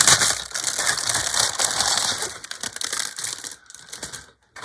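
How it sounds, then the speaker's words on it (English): A crinkly self-sealing plastic bag holding plastic model kit parts is handled up close, giving loud irregular crackling and rustling bursts that fall briefly silent near the end. "it is in a nice crinkly bag though"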